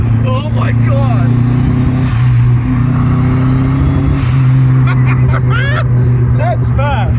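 A turbocharged Chevy LUV engine revs hard and steady with a slipping clutch, a loud sustained drone with rising and falling pitch sweeps, while people talk excitedly over it throughout.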